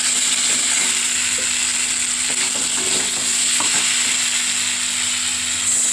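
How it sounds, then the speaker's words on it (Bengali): Water is poured into a hot cooking pot of paneer and potatoes, giving a steady, close sizzling hiss with a few scattered clinks and stirring knocks, with no talking. "এবার আমি এর মধ্যে জল দিয়ে নেব।"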